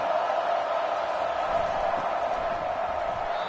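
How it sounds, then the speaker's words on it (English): A football stadium crowd near the goal line roars in a steady, dense wash of cheering that holds at an even level throughout, with no pauses. "the crowd really making some noise now"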